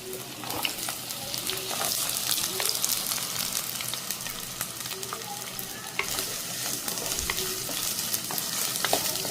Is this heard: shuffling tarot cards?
no